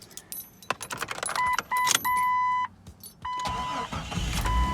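A car key jingles on its ring, then electronic chimes sound as an ignition is turned, and an engine cranks and catches before settling into a steady idle, all close up with no talk.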